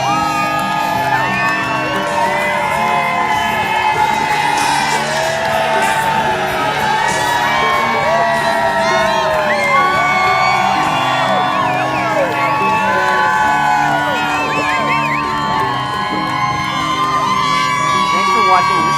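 A huge crowd outside Thai's Food and Spirits in Ashland, Massachusetts, cheers Boston Marathon runners nonstop, with whoops, shouts, children yelling and rising and falling voices close by.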